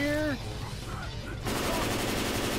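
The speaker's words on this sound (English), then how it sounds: "Bill's here with an M60!" A voice is heard briefly, then an M60 machine gun in Left 4 Dead breaks into continuous, dense, loud fire that fills the rest of the moment.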